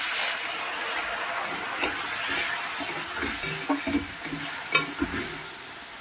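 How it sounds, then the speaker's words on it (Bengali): Ground coriander and other spices stir-fried in oil in a pan hiss with a steady close sizzle, punctuated by intermittent scraping and knocking strokes of a stirring utensil. "ধনে গুঁড়ো দিয়ে সবগুলো মশলা একসঙ্গে আমি কষিয়ে নেব"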